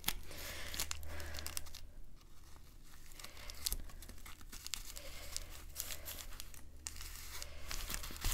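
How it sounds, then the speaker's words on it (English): Amazon package paper being folded over for a junk journal gives close, steady crinkling and crumpling with a few sharper crackles and rustles throughout, and no voice. "now I'm just going to fold this over like so"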